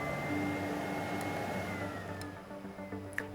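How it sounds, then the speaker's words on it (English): Blizzard CX1 bagless canister vacuum cleaner automatically cleaning its fine dust filter: a steady motor whine with a tone that drops in pitch and winds down, followed by faint clicks near the end. "the fine dust filter will be cleaned automatically. You'll hear this happening."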